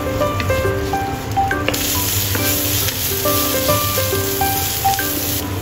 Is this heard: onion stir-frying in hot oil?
yes